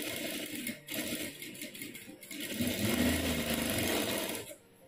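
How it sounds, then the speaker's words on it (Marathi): Sewing machine stitching the shoulder seam of a princess-cut blouse, a close rapid mechanical whir that stops briefly near the start and again at the end. "तर आता मी इथून शिलाई देऊन घेते।"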